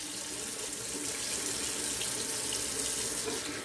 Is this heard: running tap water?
yes